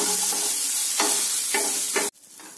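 Coconut, ginger, garlic and green chili sauté in a pan for a mushroom gravy, a continuous close sizzle broken by a few spatula stirs before cutting off abruptly.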